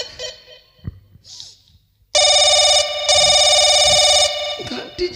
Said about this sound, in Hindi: घंटी जाती है।